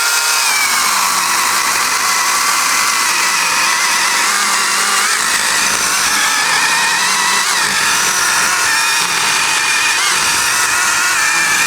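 A cordless saw runs continuously and loudly, its high motor whine and grinding buzz steady as it cuts through hard apple wood with no pauses.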